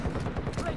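Gunfire in Call of Duty: Modern Warfare II multiplayer, a very short burst of rapid, thudding shots pulsing close and loud with low rumble.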